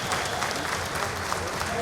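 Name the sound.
crowd applauding at Karate Combat event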